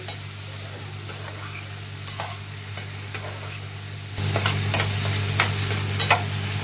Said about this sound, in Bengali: সব ভেজিটেবল আর আলু ফ্রাই হয়ে গেছে।